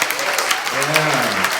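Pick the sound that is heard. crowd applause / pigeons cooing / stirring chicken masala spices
crowd applause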